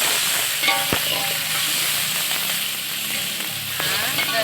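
Tomato, bird's eye chili and scallion sizzle loudly and continuously in a frying pan, with a sharp hiss throughout, one clear clink of a utensil and faint stirring scrapes.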